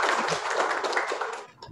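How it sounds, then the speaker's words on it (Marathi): Audience at a book launch ceremony applauds, a dense burst of many hands clapping together close and loud, easing off slightly toward the end. "एकदा जोरदार टाळ्या होऊन जाऊ त्या प्रयत्नांसाठी"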